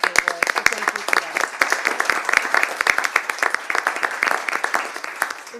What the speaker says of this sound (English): I would just like to applaud you also.